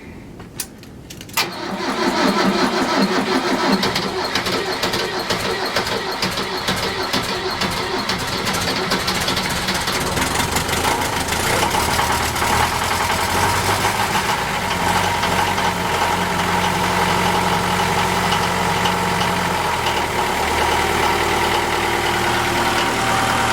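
A cold Kubota tractor engine with glow plugs cranks briefly, then catches and settles into a loud, steady, knocking diesel idle close by that runs on without talk.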